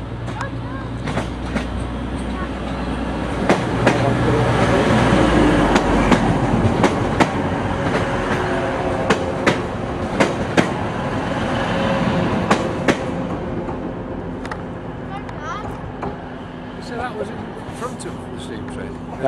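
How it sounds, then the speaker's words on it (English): A steam train, the Flying Scotsman, rumbles past steadily with rhythmic clacking of wheels over rail joints, heavy low rumble throughout, and people talking over it. "It was behind the steam train."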